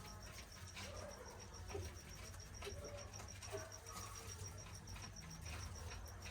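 Pigeons at their coop give a few soft, low coos that sit faint under a steady, dense background hiss, with thin insect chirring running throughout.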